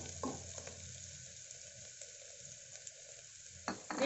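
Chopped onions fry for a lentil kurma, a steady soft sizzle with a few brief stirring scrapes at the start and end, close and moderately quiet, with no voices.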